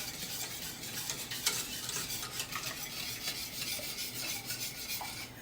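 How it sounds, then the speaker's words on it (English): A spoon stirs milk into butterscotch pie filling in an unheated pan, giving continuous soft scraping and swishing with small clinks against the metal, close and fairly quiet, with no talking. "now we're going to put the rest of our milk in. And we're going to get it stirred up here a little bit."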